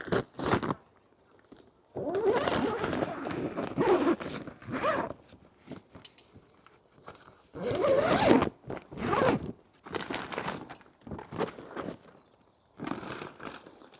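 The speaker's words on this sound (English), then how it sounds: "let's zip that back up because we've got to attach the poles to the bottom now" A zipper is pulled in repeated bursts along the fabric cover of a mini greenhouse at an allotment, close and crisp with brief pauses and rustling between pulls.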